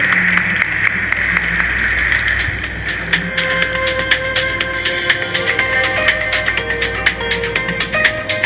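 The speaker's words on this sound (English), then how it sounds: "Can we have a big round of applause for him?" Audience applause at an IPO listing ceremony for Oswal Pumps Limited: dense clapping throughout, with a sustained tone and scattered crowd noise underneath.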